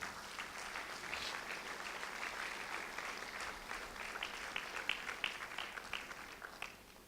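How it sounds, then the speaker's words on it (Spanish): A church congregation applauds, with dense clapping that holds steady throughout at moderate loudness and sounds somewhat distant. "Let's give the Lord a big hand"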